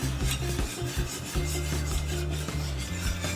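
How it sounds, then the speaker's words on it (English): A spoon scrapes steadily around a pan as Parmesan cheese is stirred into Alfredo sauce, a close, continuous rubbing with a quick back-and-forth rhythm and no voices. "Give it a stir"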